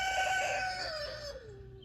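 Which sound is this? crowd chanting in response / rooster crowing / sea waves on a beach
rooster crowing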